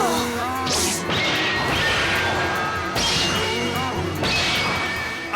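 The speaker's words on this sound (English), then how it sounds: "Orgoth stopped all 6 of the Knight of Twin Swords slash attacks!" Cartoon sword slash attacks by the Knight of Twin Swords being blocked, a series of loud metallic smashing clashes, about four sharp hits with ringing tails in quick succession.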